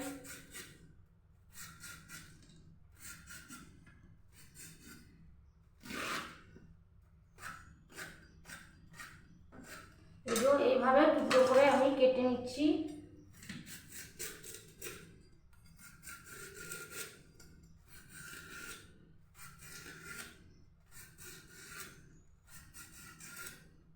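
A knife scraping and cutting a ridge gourd (jhinge) in a home kitchen, with one loud, steady rasping stretch of a few seconds among quieter intermittent scrapes, and no voices.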